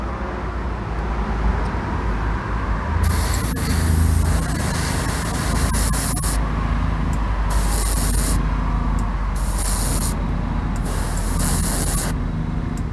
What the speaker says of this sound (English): We'll put another coat on it, build it up. Hit the front fender again.